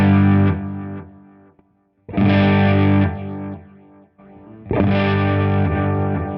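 Electric guitar through a Line 6 Helix compressor block: three loud, sustained strummed chords with a gritty, slightly distorted edge, each ringing out and fading, separated by brief gaps.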